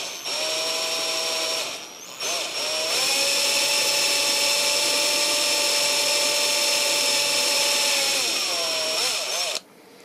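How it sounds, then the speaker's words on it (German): A small drill bores tiny holes in a wooden heart pendant, giving a close, loud, steady high whine that dips briefly near the start before running on evenly and cutting off sharply. "dafür bohre ich jetzt ganz kleine Löcher hier rein"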